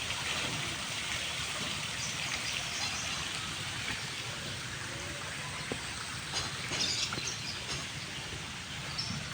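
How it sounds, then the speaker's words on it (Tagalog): A resort waterfall gives a steady, broad rushing of falling water, constant and moderately loud throughout with no break. "may falls pa sila doon"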